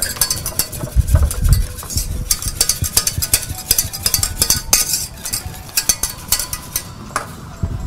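Brisk, continuous whisking in a metal saucepan, a rapid scraping rhythm of the whisk against the pan, close and fairly loud with no talking.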